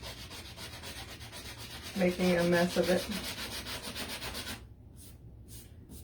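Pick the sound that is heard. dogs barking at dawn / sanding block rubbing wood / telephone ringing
sanding block rubbing wood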